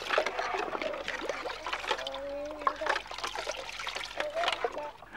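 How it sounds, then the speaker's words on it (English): A cup is pushed down into water while children play, giving soft gurgling, trickling and bubbling with small splashes. Voices talk over it throughout at a low level. "if you push a cup down into water, it makes lovely bubbling noises"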